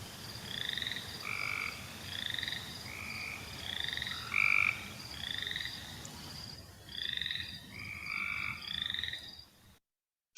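A recorded Cope's gray tree frog calls again and again, each call a loud, close, flat buzzy trill repeated in steady series over a faint background hum.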